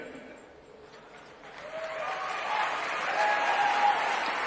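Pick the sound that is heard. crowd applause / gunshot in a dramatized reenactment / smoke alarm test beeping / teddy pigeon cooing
crowd applause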